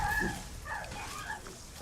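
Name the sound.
dog sounds in the video game Lies of P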